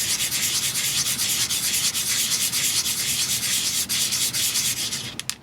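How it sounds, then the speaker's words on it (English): Continuous close, steady rubbing hiss of sandpaper working a pierced, stamped metal ring, even in pressure with only slight pulsing, ending in a few quick scratchy strokes. "And I'm sanding a little bit, and then I'm rotating the piece"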